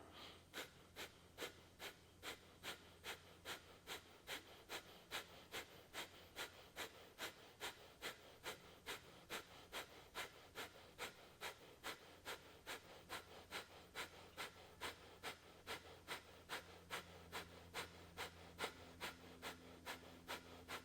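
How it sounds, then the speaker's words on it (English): Rapid, rhythmic forceful exhales in a yoga breathing exercise, dozens of short sharp puffs at a steady pace, close and fairly soft, continuing evenly throughout with no talking. "begin short, forceful exhales for about a minute"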